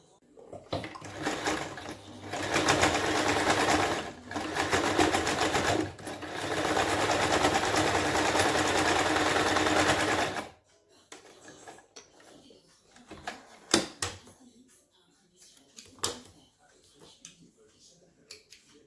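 A sewing machine stitches terry cloth makeup remover wipes in a loud, close, continuous whir for about ten seconds, broken by brief pauses, followed by quieter handling clicks and rustles.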